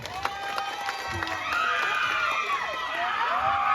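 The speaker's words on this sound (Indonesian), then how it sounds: "tepuk tangan dong untuk Jelain." A crowd at a Balinese bondres comedy stage show for a youth organisation anniversary applauds and cheers loudly, with shouts and whistles rising over steady clapping throughout.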